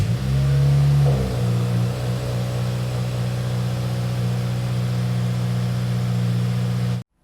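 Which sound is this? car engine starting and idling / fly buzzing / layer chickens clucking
car engine starting and idling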